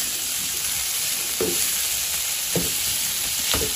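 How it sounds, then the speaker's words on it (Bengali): Potatoes frying in oil with bay leaf, ginger and garlic for an Assamese pork dish hiss in a constant close sizzle, punctuated by three distinct stirring scrapes, with no voices. "এনেকৈ ধুনীয়াকৈ ভাজি থাকিব লাগিব আলুখিনি সিজালৈকে।"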